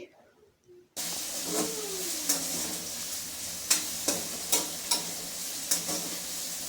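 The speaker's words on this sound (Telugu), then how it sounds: "మంచిగా బ్రౌన్ కలర్ వచ్చే వరకు ఆనియన్స్ అయితే ఆయిల్లో మంచిగా వేపుకోవాలి" Onions frying in oil for chicken biryani, browning in a pan with a steady close sizzle, stirring scrapes and a few sharp utensil clinks on the pan.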